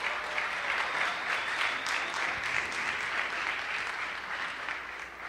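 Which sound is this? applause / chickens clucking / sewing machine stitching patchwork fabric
applause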